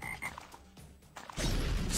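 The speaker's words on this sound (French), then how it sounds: "Vous voyez un peu, la grenouille?" Frog croaking in the video game Guardians of Holme, a tower defense roguelike, a few short croaks early on, then a louder, denser burst of game noise near the end.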